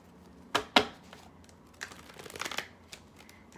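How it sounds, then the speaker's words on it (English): Tarot cards are shuffled up close in two quick riffling bursts, followed by softer rustling and shuffling of the deck in a quiet room. "Let me go give her a shuffle."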